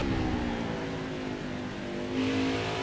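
A NASCAR Xfinity race car engine in NASCAR Heat 5 at Watkins Glen, a steady buzzing drone that swells as the car accelerates toward the end, heard alone at moderate volume.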